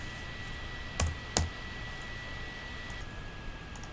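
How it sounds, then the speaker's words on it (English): Quiet typing of Python code on a computer keyboard, with two sharper key clicks standing out early and faint scattered taps after them over a steady background hiss. "Here you can start typing"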